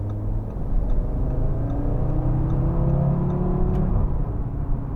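A 2017 Audi RS3 2.5 TFSI Sportback pulls hard on a test drive. Steady, loud engine drone with rising revs carries through the whole stretch, with no talk.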